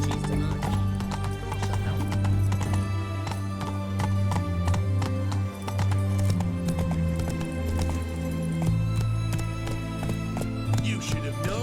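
Roach, the horse in The Witcher 3 video game, gallops with loud steady hoofbeats and an occasional whinny under a game soundtrack, with speech mixed in.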